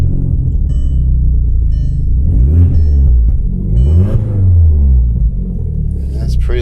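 A modified drag-built Audi TT engine rumbles loud and close, revving in repeated rising surges over a deep idle, with a voice talking briefly over it.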